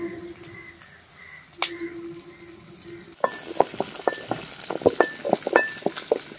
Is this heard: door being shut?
no